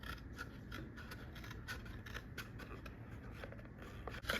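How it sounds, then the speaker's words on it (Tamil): Scissors work along one side of a paper box with quiet, repeated snipping and crisp scraping cuts in an even rhythm, close by and faint. "அவங்க ஒரு சைட் மட்டும் கட் பண்ணுறாங்க சிசர் யூஸ் பண்ணி"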